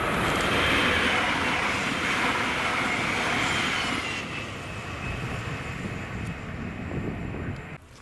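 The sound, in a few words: train 397001 passing Cartland station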